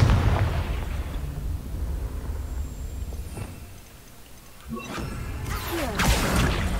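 A Confringo spell blast in the video game Hogwarts Legacy: a broad rumbling whoosh that fades, then a second sharp burst and crackling impact near the end, loud and close with no speech.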